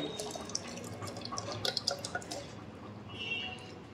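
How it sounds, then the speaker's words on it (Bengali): Water dripping and trickling as shredded cabbage is squeezed by hand, wet squelches and drips close by, a short burst of patters in the middle, no voices. "দেখুন ঠিক এইভাবে আমি হাত দিয়ে চেপে চেপে নিয়ে নিচ্ছি বাঁধাকপিগুলোকে।"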